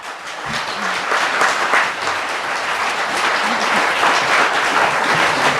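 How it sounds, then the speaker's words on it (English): Audience applause in a church gathering after a New Orleans mission trip, a full wash of clapping that swells slightly and holds steady for several seconds, loud and close, with no talk over it. "one more round of applause for everybody"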